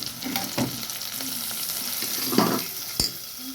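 Mint leaves hit hot oil for a mutton dish, crackling and sizzling at a moderate level, with a few louder pops and a sharp clink of a utensil against the pan.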